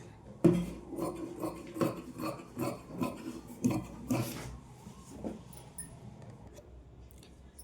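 Scissors cut blouse fabric pieces for a shaped belt, producing a close, quiet series of rhythmic snips and clicks. The snipping pauses briefly, then a few scattered cuts follow in an otherwise still room.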